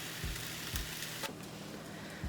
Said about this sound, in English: put a lid on it and then let it sizzle and cook for about